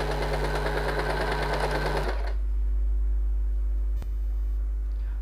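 An Usha Janome Wonder Stitch automatic sewing machine stitches with a fast, loud, close mechanical whir and rattle. It stops after about two seconds, leaving a low electrical hum.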